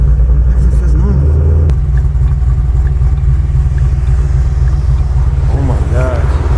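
A car fitted with NSR cams idles right after its first startup, a loud, deep, steady engine rumble close by, with a voice briefly over it.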